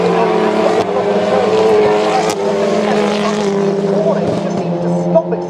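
TCR touring race cars accelerating at Oulton Park's Lodge Corner, loud sustained engine drone with rising pitch and sharp gear-change blips, close and continuous, under commentary.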